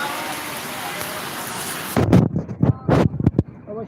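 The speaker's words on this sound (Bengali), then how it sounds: "দেখেন আমাদের এলাকার পরিস্থিতি দেখেন সকালে কী পরিমাণ বৃষ্টি" Steady hissing rain for about two seconds, then a voice starts talking close by while the rain continues underneath.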